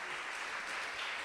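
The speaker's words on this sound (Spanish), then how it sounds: "Denle un aplauso al Señor" A church congregation applauding during a service, dense continuous clapping throughout the short moment, evenly loud with no speech on top.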